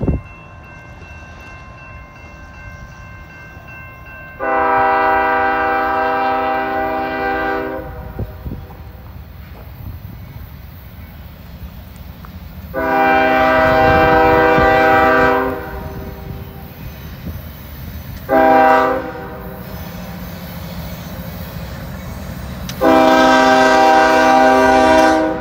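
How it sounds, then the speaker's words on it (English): A loud train horn sounds in four long blasts, each separated by a short gap, over the steady rumble of a train with a caboose passing a station, with no talking. "here comes the train right now"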